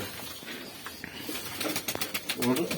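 Soft pigeon coos repeat near the end against a quiet background, with low voices murmuring in the distance.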